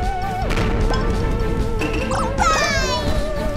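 Barrel crashing in the A Hat in Time video game, a crunching smash amid busy game sound effects and music, a short burst of impact noise heard under constant play audio.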